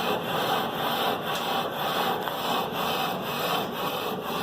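A brake lathe shaves a thin layer of metal off a warped brake rotor, making a steady, loud, grinding scrape with a faint pulse that repeats about every half second.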